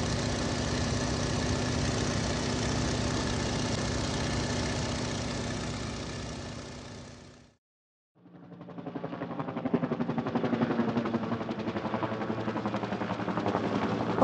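A biplane's loud, continuous engine drone runs steadily, drops to silence for a moment, then returns with a rougher, pulsing throb.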